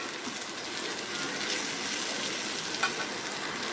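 Crushed fried pappadam being stirred into a curry masala in a pan, a steady sizzling frying hiss with soft scraping stir sounds throughout, close and continuous with no talk.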